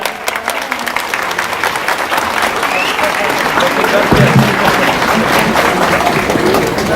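A crowd at a municipal public event in Aydın applauds the mayor as she is invited to the microphone, loud sustained clapping filling the room throughout, with faint voices mixed underneath.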